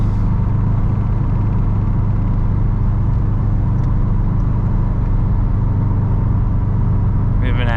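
Interior of a Subaru WRX STI on new suspension driving on the road, a steady low engine and road rumble with constant tire noise throughout.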